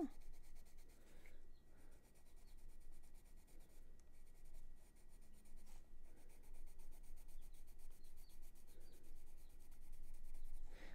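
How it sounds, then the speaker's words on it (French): A coloured pencil in pink and red tones glides across smooth, untextured colouring paper in soft, steady strokes, a faint close scratching that continues without talk. "le crayon glisse sur le papier"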